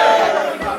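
A rap battle crowd roars and shouts continuously, a loud dense wall of voices making noise with no pause.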